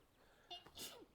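Two quick, soft sneezes in close succession, quiet against a faint background.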